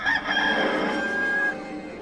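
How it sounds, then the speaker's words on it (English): A rooster crowing once, a drawn-out clear call lasting over a second, fairly close and alone, fading out at the end. "And at once, a rooster crowed."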